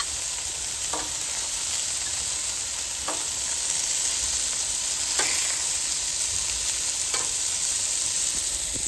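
Sausages sizzle on a Callow four-burner plancha in a steady, close, bright hiss that never lets up, broken about every two seconds by a brief click or scrape, with no voices.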